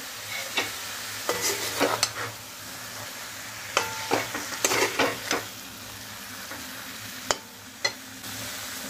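Stuffed brinjal curry sautéing in a pan, a continuous sizzle broken by repeated close scraping stirs of a spoon, clustered in bursts with a few isolated strokes near the end.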